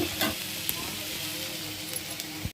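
Onions frying in oil in a pan give a steady close sizzle with light hiss and a few sharp crackles and stirring clatters, fairly quiet and with no talk over it.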